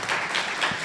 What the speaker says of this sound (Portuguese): Uma salva de palmas aqui para ele